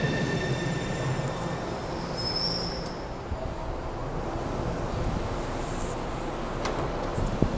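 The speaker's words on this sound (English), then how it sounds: "The destination of this train is Ashmont." A subway train bound for Ashmont runs with a steady loud rumble of wheels on track, and high metallic wheel squeals rise briefly partway through.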